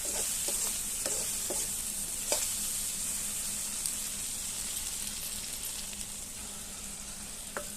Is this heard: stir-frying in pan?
yes